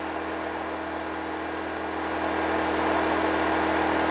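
A Champion 2500W dual fuel inverter generator running at full RPM gives a steady, even mechanical drone with a constant hum, slightly louder toward the end, with no talk.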